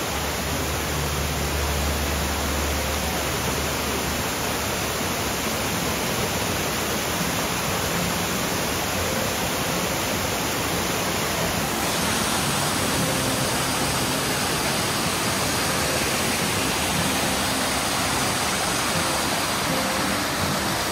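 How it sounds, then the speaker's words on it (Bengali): Bamni Falls in Purulia, West Bengal, pours as a steady, loud, broadband rush of falling water that fills the scene without pause, no voices over it. "এই হচ্ছে বামনি ফলস"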